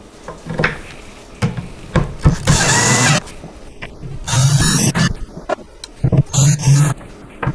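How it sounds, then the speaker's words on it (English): Screws driven with a power drill into the side panels and middle divider of a Badger Basket two-bin stackable storage cubby, several short whirring bursts of the drill separated by pauses and small handling knocks, close by. "So let's get all 6 screws screwed into place."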